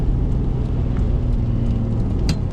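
Engine note of a Ferrari 599 with a gated manual conversion during downshifts from fifth to third, a steady, low, smooth drone heard from inside the car with no speech.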